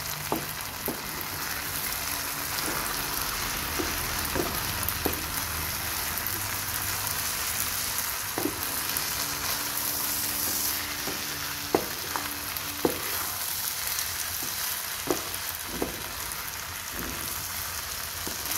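Korean-style kuy teav noodles stir-fried in a pan give a steady sizzle and frying hiss, punctuated by sharp scrapes and clanks of the utensil stirring, close and continuous with no talking.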